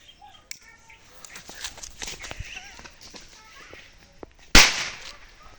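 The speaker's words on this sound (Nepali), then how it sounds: "अब पहिला चाहिँ यो टाइगर बम पड्काएर हेर्ने कस्तो पड्किँदो रहेछ भनेर।" A tiger bomb firecracker set off during Diwali gives one sharp, loud bang near the end, after a stretch of faint outdoor rustling and a few small clicks and taps.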